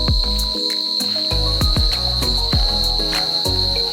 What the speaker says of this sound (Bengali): এটা ঝিঝি পোকার আওয়াজ শুনতে পাচ্ছ, মানে খুবই লাউড রয়েছে সাউন্ডটা।